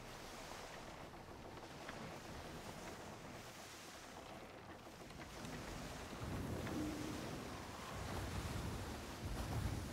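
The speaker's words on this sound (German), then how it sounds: "da peitscht uns der Wind richtig in die Segel" Wind and ocean waves surge around a sailing ship at sea in the video game Skull and Bones, a broad soft rushing that swells slightly louder toward the end.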